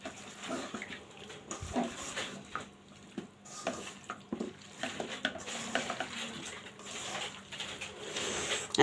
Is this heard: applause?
no